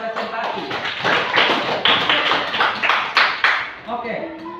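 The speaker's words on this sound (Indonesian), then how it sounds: "Tepuk tangan dulu untuk kelompok yang sudah presentasi." Classroom applause for a group that has just presented, a sustained burst of many hands clapping close by for several seconds, with voices mixed in.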